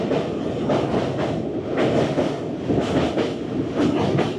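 Kanchankanya Express running through Matigara halt station without stopping, heard from on board as a loud, steady rumble with rhythmic clickety-clack of the wheels over the rail joints.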